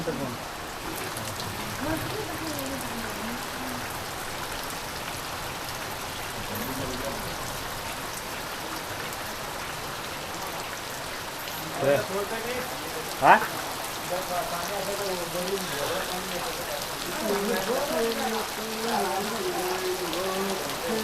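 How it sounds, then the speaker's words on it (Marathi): Heavy afternoon rain in a Konkan village, a dense continuous downpour with running water, while people talk over it and a louder splash or knock stands out midway. "दुपारी ठीक तीन वाजता जोरदार पाऊस"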